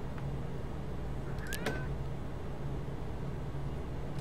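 A pet cat in Starbound gives one short meow near the middle, quiet against a steady low background hum.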